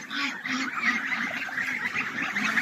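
Farmyard geese honking together in a steady, close chorus of overlapping calls, heard on their own with no talk.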